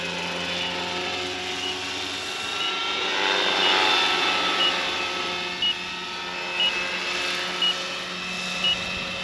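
A Roban 600-size Hughes MD500 scale RC helicopter spins its rotor at a steady 1400 RPM head speed with a wobble problem, giving a continuous whining hum and buzz, close and moderately loud, with a few brief clicks near the end.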